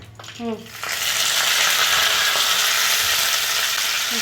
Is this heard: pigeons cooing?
no